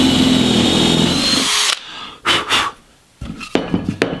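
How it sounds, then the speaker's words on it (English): A power drill whirs loudly for over a second drilling holes in plywood, then stops; short bursts of bumping and handling noises follow. "I'm going to have four holes in each piece to drill it into the wall"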